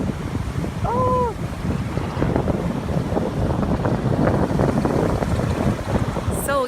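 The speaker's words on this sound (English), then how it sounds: "I know it's pretty windy" Strong wind buffets the microphone with a constant low roar and rumble, and a brief whistling call rises over it.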